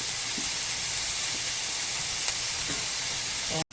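Sausages cooking covered over low heat on a stovetop, giving a steady, even hiss and sizzle that holds constant throughout, with occasional faint pops and no talk.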